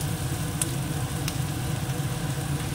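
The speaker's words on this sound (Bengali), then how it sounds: "পেঁয়াজটা একটু ভেজে নিয়ে আগে। পেঁয়াজটা কিছুটা ভাজা হয়ে গেছে" Chopped onions fry in a pan with a steady, close sizzle, a continuous crackling hiss with two sharp pops standing out, and no talking over it.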